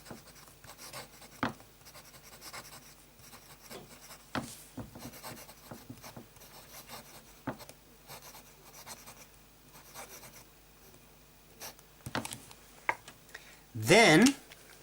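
A Montblanc Salzburger Festspiele fountain pen with a medium nib scratches across paper in soft, irregular strokes and ticks, with a voice talking quietly over it and a louder bump near the end.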